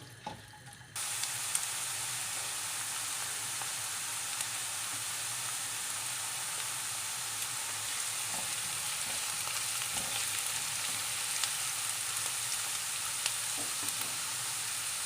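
Chopped large dry onions fry in a pan for Turkish lentil köfte, a steady, close broadband sizzle that starts after a brief quiet second and runs unbroken, with faint stirring clicks scattered through.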